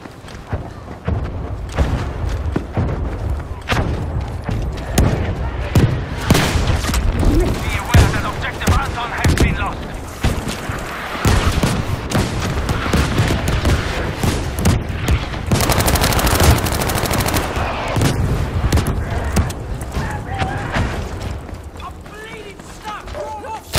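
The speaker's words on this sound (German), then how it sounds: "In Ordnung, Luftschlag kommt." Rapid, continuous gunfire and heavy explosive thuds fill a Battlefield 5 match during an airstrike, loud and dense throughout, with in-game voices shouting over the combat.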